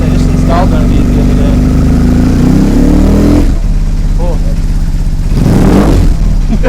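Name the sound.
1997 Electra Glide motorcycle engine running loudly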